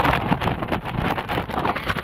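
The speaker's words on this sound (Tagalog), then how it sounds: "Sobrang mahangin" Strong wind roars and buffets the microphone in steady, heavy gusts at The Peak in Hong Kong, a dense rumbling rush with no clear voices.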